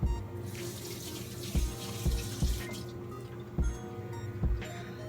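Water runs steadily from a kitchen faucet while food is rinsed under it, a continuous close splashing broken by several soft thumps and clatters as the item is handled in the sink.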